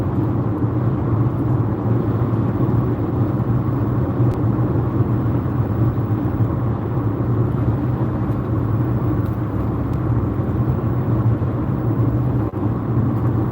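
Steady interior road noise from a car driving along, a continuous loud low rumble of engine and tyres with no breaks.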